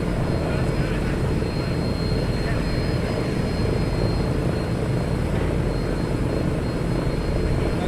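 A Scout aircraft engine runs at a local airfield, a loud steady drone with rumbling low end, continuous and fairly near with little change.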